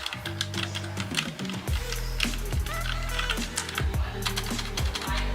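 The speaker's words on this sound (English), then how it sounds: "As you can see, you do get the clickety-clack sound in the MX Mechanical Mini for Mac." Typing on a Logitech MX Mechanical Mini for Mac keyboard produces a brisk run of clicky, clacking keystrokes at moderate loudness, close up, with no talk.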